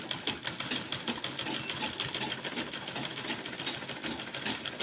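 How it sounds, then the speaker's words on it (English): A sewing machine runs steadily while stitching a curved shirt seam, its rapid, even needle clatter continuing close and loud throughout without pause. "just watch me as I'm about to stitch it around from the beginning of the shirt through the curve to the"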